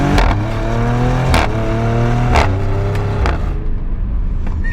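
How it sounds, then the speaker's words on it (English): A Maserati Grecale Trofeo SUV accelerates hard, its engine note climbing steadily and then dropping sharply at each quick upshift, with about four shifts in a row, loud and close from inside the cabin. "The Maserati Grecale shifts faster than any other SUV I have ever driven."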